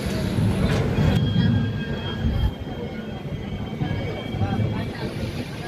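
Kolkata Jammu Tawi Express arriving at Barakar station, a steady low rumble of rolling wagons with faint wheel squeal, continuous throughout with people talking over it.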